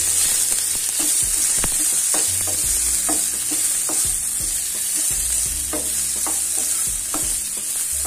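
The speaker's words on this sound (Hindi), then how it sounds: "और हम इसे भूनेंगे अच्छे से।" Mashed boiled potato fries in a pan with a fennel and asafoetida tempering, a constant loud sizzle with repeated scraping stirs of a spatula throughout, and no talking.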